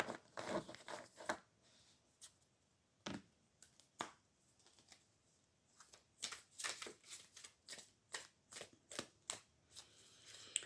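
Tarot cards are shuffled for a quick reading, giving soft, close riffling and flicking bursts in an irregular rhythm, sparse at first and then coming in a quicker series of short ruffles.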